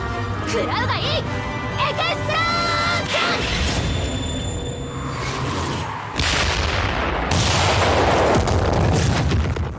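Explosion magic from a parody isekai anime: voiced, musical passages give way to heavy broadband blasts that hit loudly around the second half and roll on into sustained roaring rumble.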